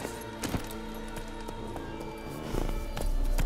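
Horse galloping in The Witcher 3 video game: rhythmic hoofbeats thud along under a steady game soundtrack, moderately loud and close, growing a bit heavier toward the end.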